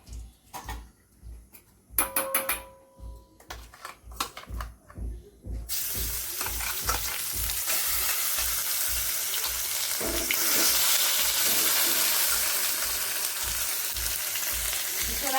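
Masala spices go into hot oil with bay leaves for a dhaba-style egg kosha. After a few light clinks, a loud sizzle bursts out and keeps frying steadily, close by, over a soft low pulsing thump.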